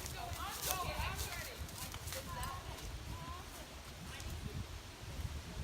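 A horse's hooves clip-clop on a trail amid rustling and wind outdoors, close and moderately loud, with people talking at a distance.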